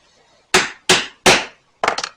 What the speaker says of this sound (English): And then set that rivet.